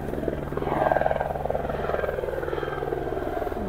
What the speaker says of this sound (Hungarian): Ott jön egy szép katonai helikopter.